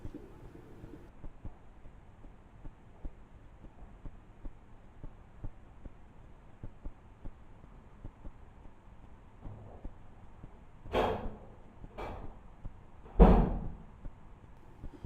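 In a reputedly haunted building empty of people, a static camera picks up a faint low hum, then three sharp knocking or banging thuds near the end, the last the loudest, in an otherwise quiet room.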